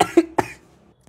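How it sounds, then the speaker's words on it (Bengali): A doctor on a medicine ward gives a short, sharp cough in two or three quick bursts, close and clear, then quiet. "আমার হুইজ দেখা থেকে আমার নিজেরই কাশি চলে আসলো"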